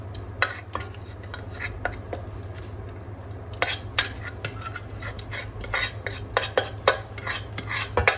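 Caramelised onions are stirred into an egg and potato mixture for Tortilla Española, giving a steady run of wet scraping and utensil clinks against the bowl over a low hum, with no talking.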